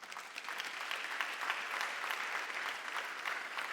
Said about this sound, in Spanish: Dile un aplauso fuerte al Señor.